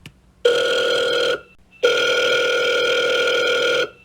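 A telephone rings twice indoors, each ring a long, steady electronic tone broken by a short pause, loud and close, with no talking.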